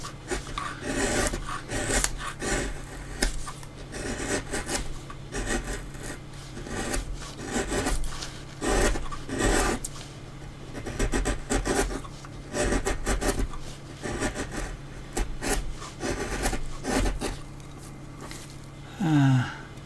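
A wood carving chisel, dull and in need of sharpening, scrapes and rasps through wood with slightly ripping strokes, a continuous close rhythm of rough cuts with no voices.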